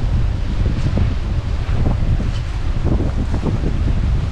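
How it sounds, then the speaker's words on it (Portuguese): Strong wind gusting through an abandoned building, buffeting the microphone with a steady low roar and rushing noise, loud and constant, with no voices. "Tá ventando muito mesmo, tá ventando bastante."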